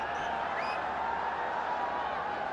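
Large cricket stadium crowd in Pindi during a Pakistan vs New Zealand T20 match, a steady continuous roar and murmur of thousands of spectators with a faint whistle, filling the whole stretch without breaks.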